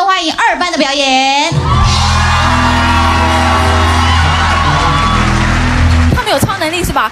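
A studio audience at a Lunar New Year eve television variety special cheers and whoops loudly. Sustained applause and crowd noise fill the middle stretch, with a presenter's voice heard before and after.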